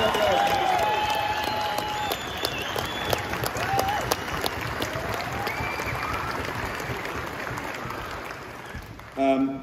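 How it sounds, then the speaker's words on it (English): A large outdoor crowd of Welsh farmers at a protest outside the Senedd in Cardiff Bay, South Wales, claps steadily for nearly ten seconds, with a few whistles cutting through and voices mixed into the dense, loud applause. "So give them a big round of applause."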